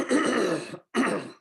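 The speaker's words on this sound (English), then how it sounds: "trying to get rid of this cough" A pair of harsh, throaty coughs up close, the first longer and rougher, followed after a short pause by a second burst.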